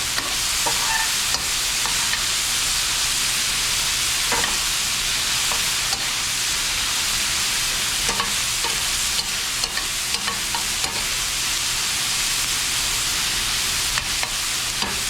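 Empanada filling fries and caramelizes against the bottom of a pan, a loud, steady hiss broken by a few sharp scrapes and taps from occasional stirring, close up with no talk.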